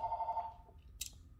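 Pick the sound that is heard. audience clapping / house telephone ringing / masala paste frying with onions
house telephone ringing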